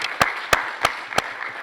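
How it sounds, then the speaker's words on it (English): Four separate sharp claps from a small audience at an election commission roadshow event, evenly spaced and fairly close, with no talking over them. "Let's clap hands for that"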